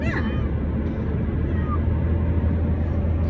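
A pet cat named Venom gives a short meow at the start and a fainter one a little later. Both sound thin and brief above a steady, loud low hum that lasts the whole time.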